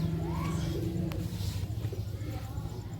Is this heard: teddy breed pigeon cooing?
yes